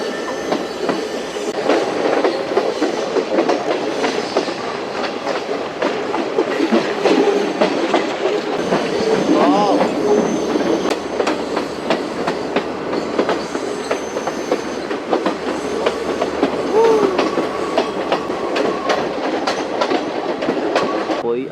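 A passenger train on the Sri Lankan hill-country line toward Badulla rolls along the rails, heard from on board with a continuous rumble, rhythmic clickety-clack of wheels and occasional squeals, loud and close throughout.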